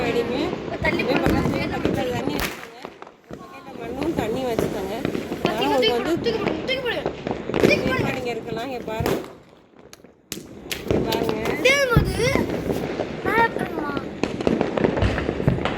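Diwali firecrackers burst repeatedly in a dense, crackling barrage through the whole stretch, with a brief lull in the middle, while voices or music carry on underneath.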